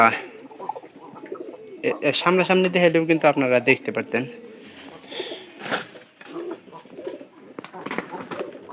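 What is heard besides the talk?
pigeons cooing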